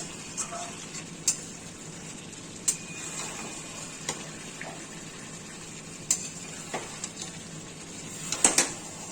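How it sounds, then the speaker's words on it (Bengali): Mutton masala is sautéed with onion water in a kadai, making a soft, steady sizzle with scattered sharp clicks and taps of a spoon against the metal pan. "পেঁয়াজের জল দিয়ে এবং মশলা দিয়ে সাতলানো হচ্ছে।"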